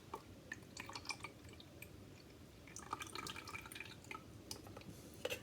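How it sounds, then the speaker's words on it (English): Liquid from canned pears drains in a steady faint trickle with scattered drips and light splashes, quiet and close, with no voices. "Draining the pears."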